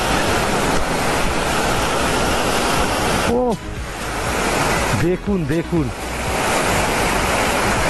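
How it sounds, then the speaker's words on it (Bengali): A Himalayan waterfall near Sach Pass in Himachal Pradesh pours in a dense, loud, unbroken roar on a sunny day, with a voice briefly speaking over it twice. "ঝর্ণাটা একবার দেখুন"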